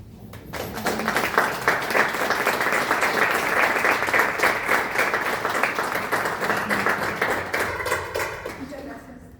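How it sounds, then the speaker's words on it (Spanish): Audience at a poetry talk in San Juan province bursts into sustained, dense clapping right after a reading, holding steady and fairly loud for about seven seconds before tapering as a voice begins speaking. "Muchas gracias por los aplausos"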